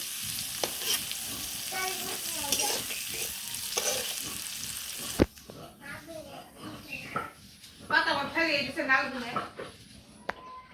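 Hot oil sizzling in a pan with cumin and salt added, a fairly loud hiss under spoken voices, then a sharp clank before a quieter stretch with more talking and a dog whimpering.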